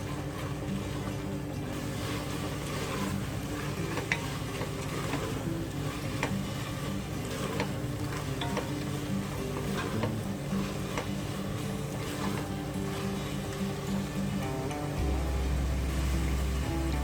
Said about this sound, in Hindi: अब इसको अच्छी तरह से मिक्स करें।